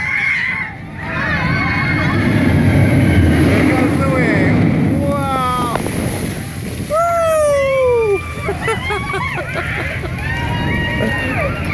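Water from the SheiKra roller coaster's drop rushes and splashes over a noisy watching crowd in the splash zone, with excited shouts, whistles and squeals rising throughout.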